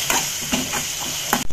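A spoon scrapes and knocks through a thick crab pepper sukka mixture in a pan, a few distinct strokes over a constant sizzling hiss.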